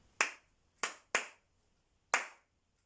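Four sharp, separate hand claps spaced unevenly in a short rhythm, close and clear against near silence, each with a brief decay.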